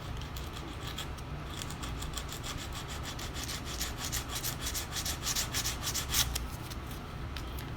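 Cured epoxy mixed with 410 fairing filler is sanded by hand with sandpaper beside a fiberglass repair: steady, close, rhythmic back-and-forth scratchy strokes that carry on throughout with no talking.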